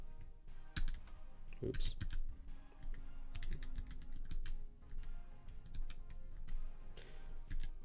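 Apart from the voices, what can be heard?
typing on a split computer keyboard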